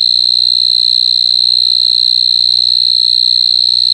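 A cricket stridulates at night in one steady, loud, unbroken high-pitched trill that holds for the whole stretch, with a low background hum beneath it.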